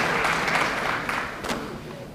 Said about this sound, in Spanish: Fuerte los aplausos para recibir al señor José Cantero.